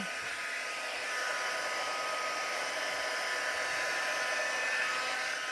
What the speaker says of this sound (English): I'm going to get my heat tool now and show you how that works.